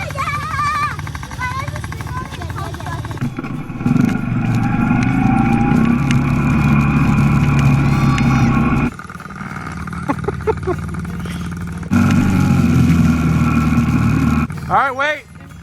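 Dirt bikes received as Christmas gifts idle and rev close by, a steady engine drone with rising and falling throttle, dropping out briefly and returning, while people talk over it.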